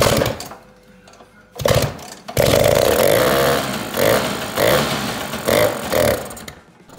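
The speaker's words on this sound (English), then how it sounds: "And it was time to fire it up for the first time." Vespa 180 SuperSport scooter with a Vespatronic CDI ignition, started for the first time: a brief sputter, then the two-stroke engine catches and runs loud and raspy, close by, with uneven revving pulses before it settles back.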